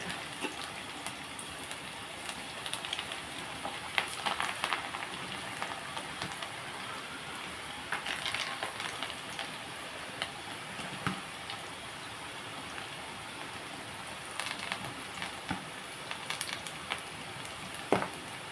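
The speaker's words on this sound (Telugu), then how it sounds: "తోటకూర పల్లీల పకోడీ గట్టిగానే వేసుకోవాలండి" Amaranth leaf and peanut pakodi batter frying in hot oil, a steady dense sizzle and crackle with brief louder bursts as pieces go in, close and continuous with no talking.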